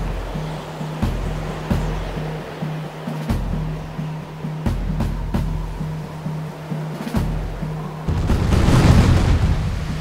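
Cannon fire and explosions at sea in the East India Company video game: a run of sharp, evenly spaced booms over a constant low rumble of surf, swelling into a louder, denser blast near the end, with no talk.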